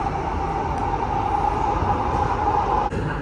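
A Delhi metro train runs with a steady, loud rumble and rolling hum that continues unbroken throughout, with no one talking.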